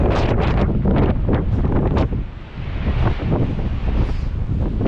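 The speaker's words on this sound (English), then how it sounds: "Bloody windy to get up here." Strong gusty wind roars and buffets the microphone continuously on a clifftop at the Needles, Isle of Wight, dipping briefly before surging again; no one speaks.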